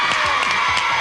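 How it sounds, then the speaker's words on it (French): Studio audience at a French children's video game TV show cheering and applauding for winning contestants, a loud continuous crowd roar with whoops throughout. "On les applaudit!"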